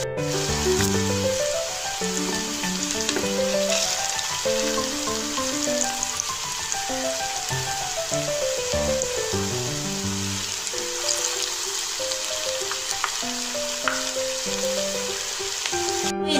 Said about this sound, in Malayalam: ഇത് നല്ലോണം ഫ്രൈ ആയി വന്നിട്ടുണ്ട്.